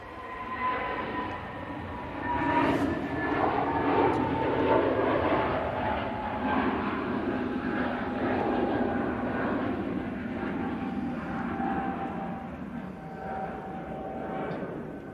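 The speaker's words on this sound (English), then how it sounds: "EasyJet to Innsbruck. A320neo." An easyJet Airbus A320neo jet takes off from Manchester Airport bound for Innsbruck, its engines building into a sustained roar that rises early and then holds steady at a moderate distance.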